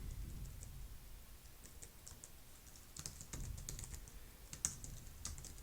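Quiet, steady typing on a computer keyboard, a run of light rapid key clicks with a few firmer taps, close by and alone.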